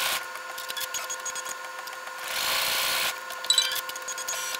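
Embroidery machine stitching placement lines for a pen pocket on a composition notebook cover, a steady close mechanical whir with rapid needle ticking that swells louder midway, running alone without talk.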